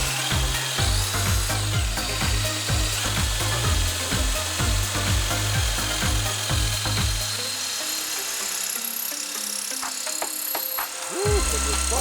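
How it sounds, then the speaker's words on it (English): A drill bites through a heavy-duty metal greenhouse door frame for a door latch, a strained rhythmic grinding with repeated pulses for several seconds before stopping, followed by quieter handling and a brief whine. "it a little challenging drilling the holes for the door latch because this metal isn't some cheap aluminum"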